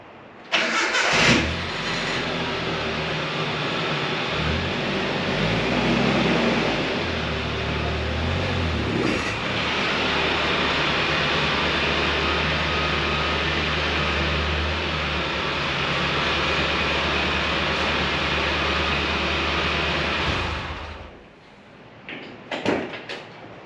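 A 1997 Nissan pickup starts up and its engine runs loudly and steadily up close as the truck pulls into a garage, idling and revving for about twenty seconds before cutting off.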